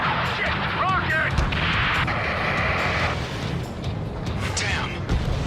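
Rocket attack and explosions in the combat flight game Ace Combat 7, a dense, continuous roar of booms and blasts with radio-style voices talking over the din.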